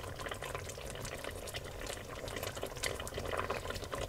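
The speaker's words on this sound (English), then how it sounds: "Let them simmer for another 20 minutes." Pork chops simmer in broth in a covered pot, giving a steady, soft bubbling hiss that holds evenly throughout at low level.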